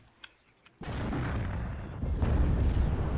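Artillery and grenade launcher fire in the real-time strategy game WARNO: a few faint clicks, then a sudden sustained roar of heavy firing that swells louder partway through, dense and rumbling with no talk.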